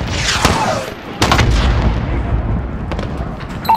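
Gunfire in the video game Call of Duty Modern Warfare 2019, loud booming rifle shots with a sharp crack, long rolling echo, and a few scattered shots following, all close and dominant.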